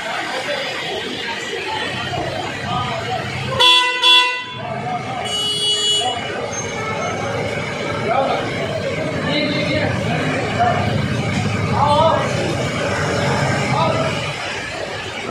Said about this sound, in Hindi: पूरा भीड़ भाड़ है, देखो ट्रैफिक जाम है